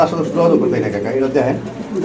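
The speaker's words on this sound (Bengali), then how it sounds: "এটা বিউটি কবুতর" A beauty pigeon cooing in low, warbling phrases close by, mixed with people talking over it.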